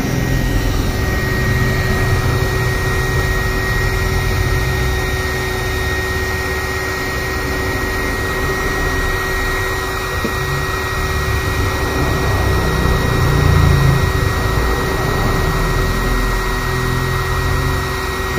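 A homemade waste-oil stove burning old engine oil gives a steady, loud, continuous roar with a constant hum, close and unbroken, and no voices.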